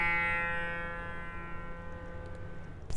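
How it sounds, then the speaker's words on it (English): Plucked tanpura strings ring out with full resonance, a bright shimmering attack fading into a long sustained drone with a faint fresh pluck at the end, heard alone. "The same strings with resonance will sound something like this."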